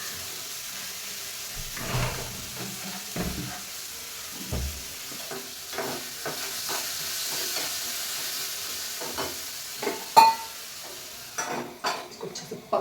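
Food sizzles softly in a pan on a home stove while a spoon stirs and scrapes it, with scattered clinks and taps over a quiet steady frying hiss.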